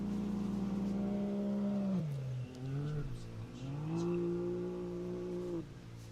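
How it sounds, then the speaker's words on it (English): Ultra4 off-road race car in the stock class idling and revving at a desert racing event, its engine tone dipping and rising through several throttle blips, fairly close and steady with a brief drop near the end. "Sounds like we do have one more car yet to go."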